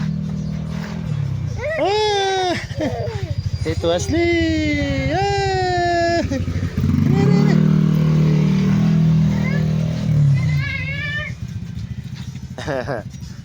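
A motorcycle rides past on a street, its engine swelling near the middle and fading out, while a voice and meow-like cries sound around it.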